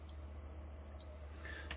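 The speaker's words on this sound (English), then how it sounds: "I've got my Fluke set up to do a continuity check so that whenever these two terminals touch, you're going to hear an audible alarm" Continuous high beep from a Fluke multimeter on continuity test as its two probes touch, a steady tone for about one second that then cuts off, close and clear with no talk.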